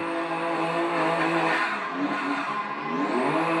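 A drifting car in the Assetto Corsa simulator screams at high revs with a sustained tire squeal, the engine pitch rising and falling steadily as the slide holds, loud and alone.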